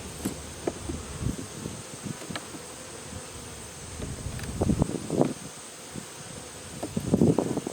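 Honeybees buzz around an open hive during an autumn inspection outdoors, a continuous soft hum with louder swells as individual bees fly close past, plus faint rustling.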